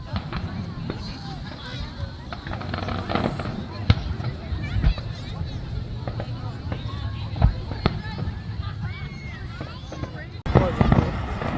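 July 4th fireworks going off in the distance, scattered pops and bursts at irregular intervals under people talking nearby.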